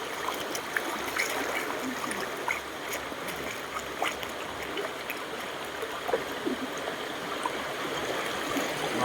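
Cold spring water at Malumpati in Pandan, Antique rushes and burbles in a steady, continuous flow, close and even throughout, with no voices over it.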